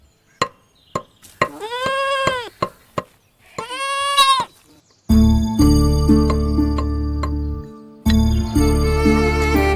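Goats bleat several times in wavering cries, mixed with sharp knocks, then dense layered music takes over for the rest.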